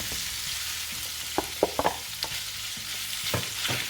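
Pork with onion and garlic sautés in a pan for pork and liver igado: a steady sizzle runs throughout, broken by several sharp scrapes and clacks of stirring, closest together in the middle.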